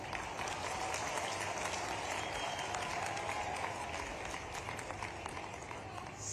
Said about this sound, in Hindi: और ऐसे में ताली इतनी कम बजे तो मजा ही नहीं आएगा।